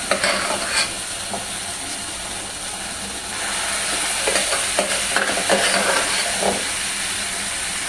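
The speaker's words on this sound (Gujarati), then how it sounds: "હવે જે દાળ તૈયાર છે એ આમાં એડ કરીએ છીએ." Cooked dal poured into a hot tempering for a quick dal fry, hissing and sizzling steadily up close, growing slightly louder partway through, with intermittent spoon-stirring scrapes and no talking.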